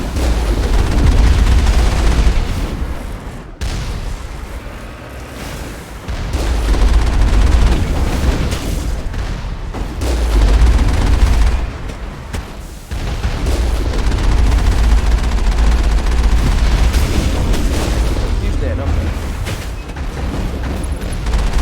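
Loud, dense bursts of gunfire and booming missile explosions from the video game Mass Effect 1, rolling on continuously in heavy waves with brief lulls, with no voices.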